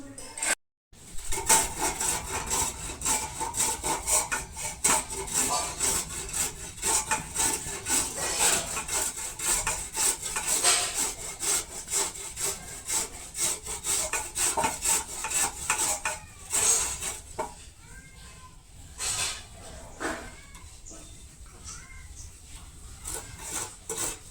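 Fresh carrots being grated by hand for carrot halwa, a steady rhythmic rasping and scraping against the grater that runs loud and close almost throughout, with no talk.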